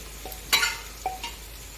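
Lentils (dal) frying in a pan, with a couple of sharp stirring scrapes and brief sizzles over a quiet background, no talk.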